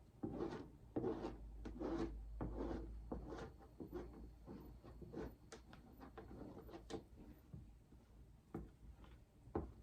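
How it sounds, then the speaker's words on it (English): Goat milk soap scraped out of a mold, with close, repeated rasping and rubbing strokes in an uneven rhythm and no talking. "it's a little bit tricky to scrape out everything"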